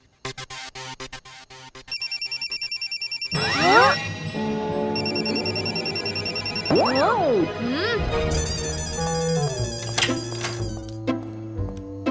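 A phone ringtone sounds as a call is placed to a grandfather's phone in a Hindi sitcom: repeated electronic ringing tones mixed with music and sound effects that change partway through, with no talk.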